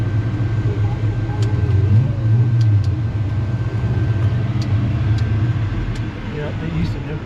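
Busy town street traffic in a tourist-swollen Texas town: a continuous low rumble of car engines idling and moving nearby, with faint clicks on top and a voice talking over it.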